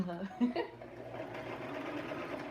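A sewing machine stitching a wig hums and whirs in short bursts and then runs steadily, quiet and close, while someone talks over it.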